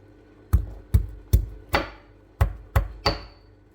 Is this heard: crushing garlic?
yes